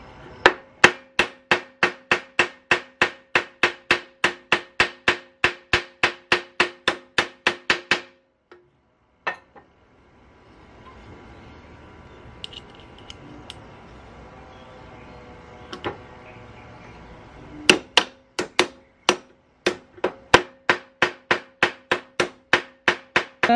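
Rivets being hammered on a Yamaha SZR racing clutch damper during a rubber replacement: a long run of sharp, evenly spaced metallic taps, a quiet stretch of faint handling noise, then another quick burst of taps.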